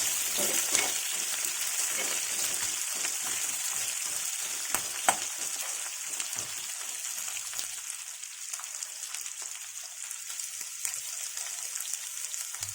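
Onion and garlic frying with turkey berries for chutney as the pan is stirred, giving a steady close sizzle with faint spatula scrapes throughout and no talking.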